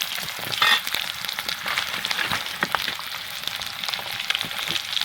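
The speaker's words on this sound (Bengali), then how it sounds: "ভালো করে একদম লাল লাল করে ডিমগুলো ভেজে নেবো" Steady crackling sizzle of eggs frying in hot oil until browned, close and continuous, with a few sharp pops and no voices.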